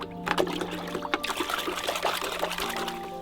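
Parts of a Graco 390PC cordless paint sprayer dunked in water, producing close, continuous sloshing, trickling and small splashes with no voices over them.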